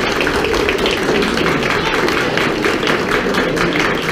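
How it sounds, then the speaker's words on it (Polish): An audience applauds at a school ceremony with children from a local school present, a steady wash of clapping that stays even and fairly loud throughout, with crowd murmur mixed in. "Poproszę o oklaski."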